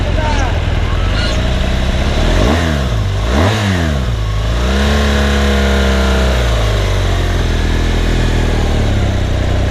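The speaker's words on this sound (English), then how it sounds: "So he's riding the S1000RR, I'm riding the 1200 GS." BMW S1000RR and BMW 1200 GS motorcycles ride together on the road, their engines revving loudly with rising and falling pitch sweeps close by, a steady drone persisting throughout amid wind noise.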